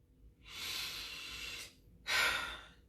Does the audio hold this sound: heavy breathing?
yes